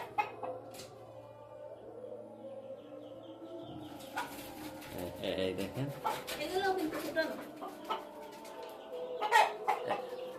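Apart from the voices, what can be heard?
chickens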